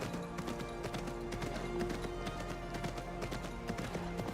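Donkey hooves clip-clopping in Assassin's Creed Mirage, a quick, steady run of light hoof taps over a quiet game background, with no voices.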